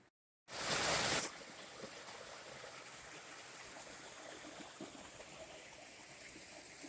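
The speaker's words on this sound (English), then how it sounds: "There's a creek right here." Creek water rushing steadily in the Grand Canyon, a close, continuous broadband wash that swells loudly for about a second near the start, then settles into an even flowing hiss with occasional small splashes.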